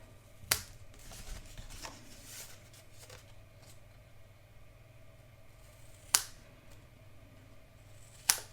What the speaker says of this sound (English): I'm going to go ahead. And trim these corners off.